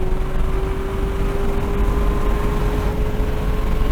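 A Camaro ZL1 1LE on a race track at wide open throttle gives a loud, steady engine drone with a sustained tonal hum, holding at speed without a clear break.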